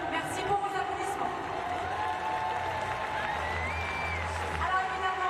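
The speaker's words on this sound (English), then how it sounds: "Merci pour vos applaudissements." A stadium crowd at the Paris 2024 para athletics claps and cheers in a broad, sustained roar of applause with a few whoops, while a voice talks over the din.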